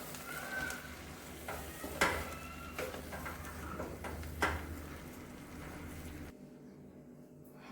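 Samosa stuffing with lemon juice being stirred in a pan: a soft sizzle under repeated scraping and clinking strokes of a spoon against metal, which stop before a quieter tail.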